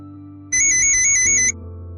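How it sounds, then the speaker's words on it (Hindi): A phone ringtone plays a bright, repeating electronic melody for about a second, loud and close over a faint background hum, then cuts off. "अब किसका फोन आ गया?"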